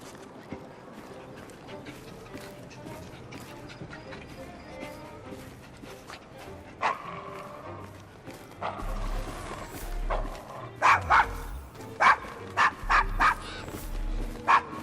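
Dog barking in the video game Assassin's Creed Syndicate, a run of sharp barks growing denser toward the end over game ambience and background chatter.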